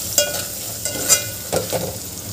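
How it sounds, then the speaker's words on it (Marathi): Spices are stirred in a hot pan for a spinach daal bhaji, with soft scraping strokes and a light sizzle coming in a few separate bursts, close by and fairly quiet. "हे सगळे मसाले आपण मिक्स करून घेतलेले आहे।"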